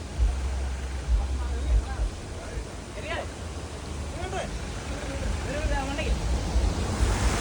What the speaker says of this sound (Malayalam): താഴത്ത് കിടിലം വെള്ളച്ചാട്ടം.